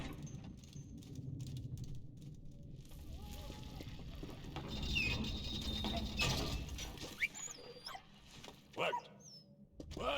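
A dog in the World War I adventure game Valiant Hearts: The Great War gives a few short barks and yelps over mechanical clanking and game effects, with someone talking intermittently.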